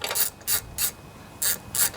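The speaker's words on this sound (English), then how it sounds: "going to move this out of the way and try and get my wrench down onto that nut" A ratchet wrench loosens the carburetor bolts on a Tecumseh lawnmower engine, giving four short, close, loud bursts of rapid clicking with quiet gaps between the strokes.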